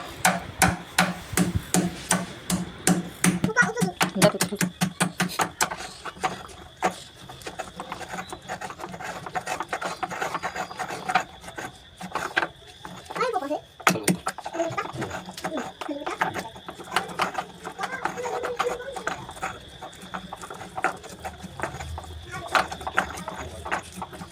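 Rice is pounded into a paste in a new stone mortar and pestle with rapid, irregular thuds and grinding scrapes close by, occasional pauses between bursts, and soft talking in places.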